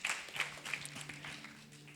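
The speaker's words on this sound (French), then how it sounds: "Est-ce qu'on peut applaudir le Seigneur?" Congregation applauding during a Sunday church service, a brief burst of scattered hand claps at moderate distance, fairly soft and diffuse with a faint tone under it.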